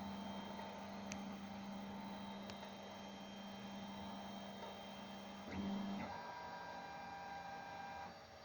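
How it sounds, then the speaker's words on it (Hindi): A 3D printer drives its build plate up toward the home position, giving a quiet steady motor whine and hum with a couple of faint clicks and a brief louder shift near the end before it stops. "बिल्ड प्लेट जैसे ही ऊपर पहुंचेगा फिर ये रुक जाएगा।"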